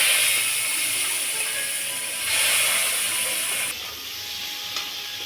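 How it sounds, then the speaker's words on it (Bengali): Potatoes fry in oil in a kadai with a loud, steady hiss and sizzle that carries on throughout. It dips slightly partway through, and no one speaks. "এবার আলুটা ভেজে নিচ্ছি।"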